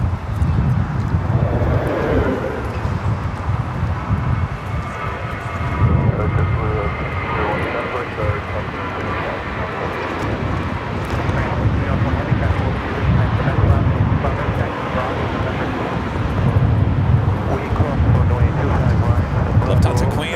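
A Lufthansa Airbus A380 taxis at Los Angeles airport, its engines a steady loud low roar and whine with some wind buffeting, while someone talks over it.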